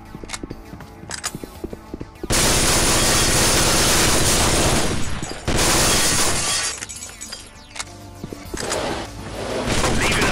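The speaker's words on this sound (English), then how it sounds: "I'm not completely sold on the fact that the glass is still collidable even after it's kind of been shattered." Glass shatters in the stealth video game Chaser, setting off a loud, sustained crash of breaking glass that fades and then returns as a second burst, with faint clicks before it.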